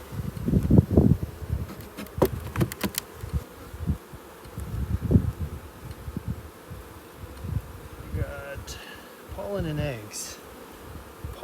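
Honey bees buzz steadily around an open hive while a nucleus colony is transferred into a Hive IQ box, with close individual bees droning past, frame handling knocks, and a person speaking occasionally.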